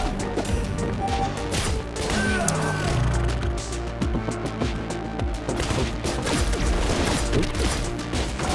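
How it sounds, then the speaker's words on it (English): Rapid turret gunfire bursts in Katana ZERO, loud and dense over a busy game soundtrack, continuing steadily with crashing impacts and mechanical clatter throughout. "Sneaky ass turret, huh?"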